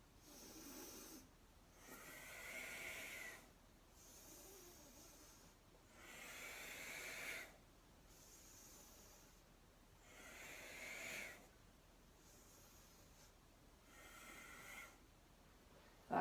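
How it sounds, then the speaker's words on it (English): Rhythmic breathing during yoga abdominal crunches, heard close and quiet as about six soft, hissing inhale-exhale cycles at a steady slow pace, with no talking. "So you can just hear my breath for a second."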